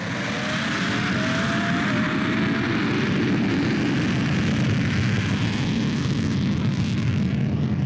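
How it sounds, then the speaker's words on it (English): A loud, steady engine roar blends a deep jet turbine rumble with a high-pitched Formula One engine whine, sustained and close throughout without voices. "the deep sound of a jet turbine mixed with a high-pitched Formula One engine"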